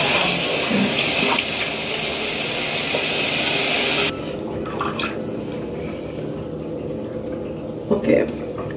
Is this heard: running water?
yes